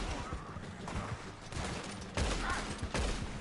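Gunfire from guns and a shotgun in the video game Red Dead Redemption 2, a rapid cluster of sharp shots and booms at moderate distance, fairly faint, with speech underneath.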